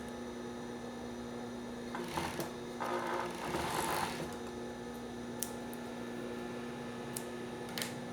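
A sewing machine stitches a two-colour swimsuit with elastic, running in a few short bursts over a steady electrical hum, with small clicks in between.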